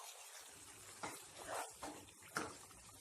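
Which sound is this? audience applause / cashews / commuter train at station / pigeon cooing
cashews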